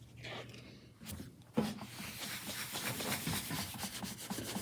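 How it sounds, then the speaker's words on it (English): A sponge applicator rubs wax onto the drawers of a vintage Craftsman three-drawer tool box, making soft, close, repeated scrubbing strokes at low volume with a light tap partway through. "apply it using one of these sponges or these applicators"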